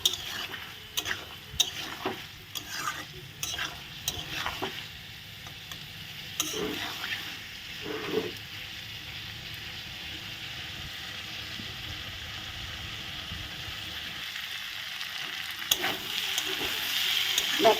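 Spice masala being stirred and fried in a pan for egg ghugni, a steady sizzle with scattered scraping clicks of a spoon, close and moderately loud, growing slightly busier toward the end.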